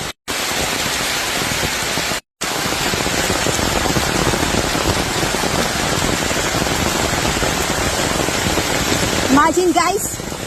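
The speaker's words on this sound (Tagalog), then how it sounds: "Super heavy yung rain guys." Heavy rain pours down steadily outdoors on a trail near forest hills, a dense, loud roar of drops that fills the clip, broken by two brief cutouts near the start, with faint bird-like chirps toward the end.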